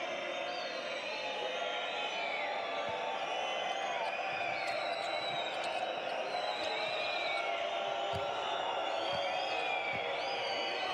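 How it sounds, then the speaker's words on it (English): A basketball arena crowd in Ankara whistles loudly and without a break, a dense, steady roar of shrill whistles with occasional ball bounces and a commentator talking underneath. "you can hear the whistling ringing out. The crowd certainly play their part here in Ankara"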